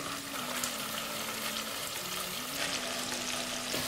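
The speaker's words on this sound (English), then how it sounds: "So we're just gonna saute this for about a minute, and then we'll add the rest of the vegetables" Chopped tomato and other vegetables sauté in a pan, giving a dense constant sizzle with a faint steady hum running underneath.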